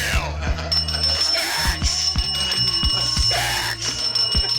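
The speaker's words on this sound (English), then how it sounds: "Ring the goddamn bell." A bell rings repeatedly in a steady series of bright metallic strikes, loud and close, over a busy background with a sustained high tone.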